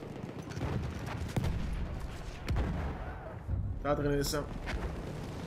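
Booming blasts and rattling gunfire in the Battlefield 1 multiplayer battle, loud and dense throughout with a heavier burst near the end, while someone talks over it.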